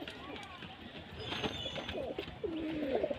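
Fancy pigeons at a breeding farm give soft, throaty coos, close by and rising toward the end, under people chatting nearby.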